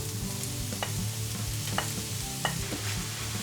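Onion and apple cook in a pan for a vegan curry rice, a continuous frying crackle with periodic scraping stirs and a few sharp clicks of the utensil against the pan, close and without speech.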